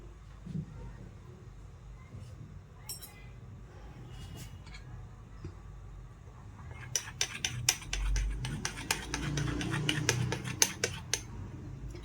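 A spoon mixes a potato and onion mixture in a bowl, starting quietly and then turning into a busy run of clinking, scraping metal-on-dish taps.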